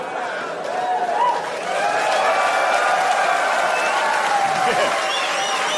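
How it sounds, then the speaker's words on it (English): A stand-up comedy crowd breaks into clapping and cheering, the applause swelling after a moment and staying full and lively, with raised voices mixed in. "That's an applause break."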